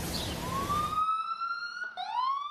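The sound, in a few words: ambulance sirens on New York City streets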